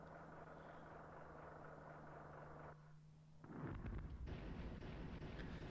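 Artillery fire in the SNES war game War 2410: a sustained low rumbling engine-like drone breaks off, then a heavy crackling barrage of muffled blasts rolls in loud and dense, with no voices.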